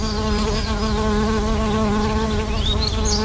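Bees and other insects buzzing around flowers, a loud, steady, close drone of overlapping wingbeat hums that holds evenly throughout, with faint bird chirps near the end.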